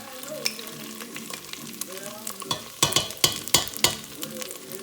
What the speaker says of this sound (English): we're gonna go ahead and add the tomato paste